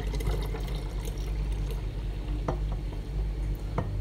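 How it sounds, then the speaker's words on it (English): Juice with lime poured back into a jug, a continuous trickling and splashing of liquid heard close up and steady with no one speaking. "as I'm pouring this back in, that lime, is gonna evenly distribute itself throughout the juice now"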